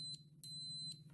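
A multimeter in continuity mode gives three short, high electronic beeps at a quick, even pace over a low steady hum, with no talking.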